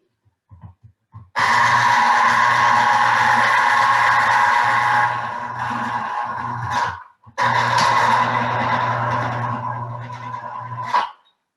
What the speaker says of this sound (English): It has a juicer thing here, so you just push down on it.